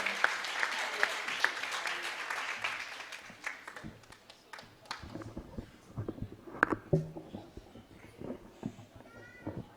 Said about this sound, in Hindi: मैं चाहता हूं कि आप जोरदार तालियों से आशीष नरवा जी को आमंत्रित करें